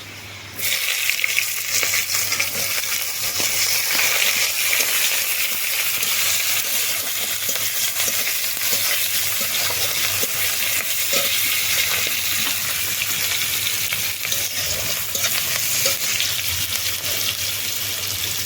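Onions frying in hot oil in a home kitchen pan, a steady broadband sizzle that runs loud and continuous from start to finish, with faint clinks and stirring beneath it.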